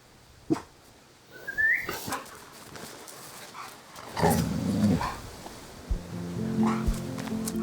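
A dog gives a few sharp barks and low growly woofs, close by, with a brief whistle-like whine between them; no speech.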